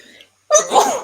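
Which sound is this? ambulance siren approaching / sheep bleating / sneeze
sneeze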